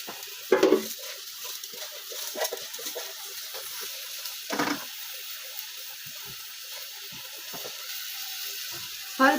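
Dry, unwashed rice stirred as it fries in a pot with oil, giving a soft continuous sizzle with scraping spoon strokes against the pot and a few louder clinks, close by.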